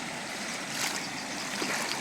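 Irrigation water rushes steadily from a pipeline laid to a groundnut field, a continuous broadband gush that holds at an even level for the whole stretch with no voices.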